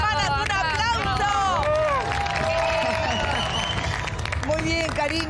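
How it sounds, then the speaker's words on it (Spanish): A television studio audience breaks into applause and cheering, with dense clapping mixed with lively crowd babble and voices through the whole stretch. "¡Un aplauso!"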